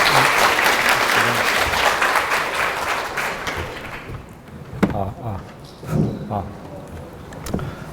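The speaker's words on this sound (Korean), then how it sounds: "큰 박수로 환영 부탁드립니다." Conference audience at PyCon APAC 2016 applauding to welcome a speaker, a few seconds of full clapping that tapers off into scattered claps and room noise.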